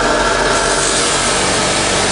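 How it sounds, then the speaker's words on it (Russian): A large angle grinder cutting through steel rebar to leave a square, flat end, producing a loud, continuous harsh whine and grinding hiss close by. "Поэтому используем вот такую вот большую болгарку"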